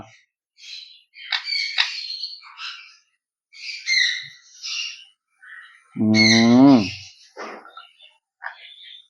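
Sun conure parrots feeding, close shrill squawks and chirps in bursts, with one long harsh raspy squawk near the end.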